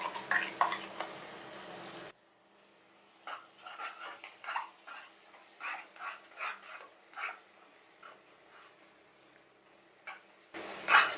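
Gongura paste fries with onions and kabuli chickpeas in a pan: a loud sizzle opens and closes the stretch, with quieter irregular scraping bursts between.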